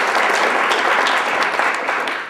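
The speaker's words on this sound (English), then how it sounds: "I'd like to give her some applause." Loud, dense applause from the audience at a habeas corpus announcement, a steady roar of clapping that eases slightly near the end.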